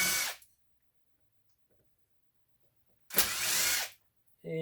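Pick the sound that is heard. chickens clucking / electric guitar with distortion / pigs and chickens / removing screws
removing screws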